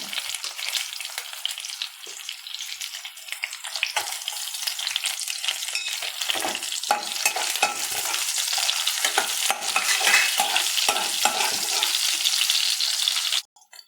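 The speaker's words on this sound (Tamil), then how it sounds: "பூண்டு போட்டுக்கோங்க." Garlic, along with small onions, fries in hot oil for a curry leaf kulambu. A loud, dense, continuous crackling sizzle runs close up throughout, then stops abruptly at the end.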